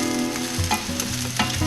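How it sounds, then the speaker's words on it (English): Steak dinner ingredients sizzle and sauté in a hot pan over a raised flame, a loud, close, continuous frying hiss with occasional stirring scrapes and no talking. "Turn the fire up because I want this to start to saute a little bit."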